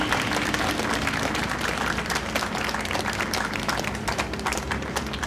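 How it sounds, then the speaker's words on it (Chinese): A crowd at a political rally on election vote-counting night claps steadily, a dense wash of hand claps that stays even throughout without speech. "请大家给哥兰伟计划一个热情的掌声好不好"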